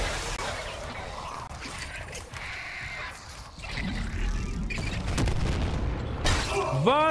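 A booming explosion and rumbling impacts in the Dead Space Remake video game, mixed with in-game mechanical noise and clatter and building toward a louder, sustained roar.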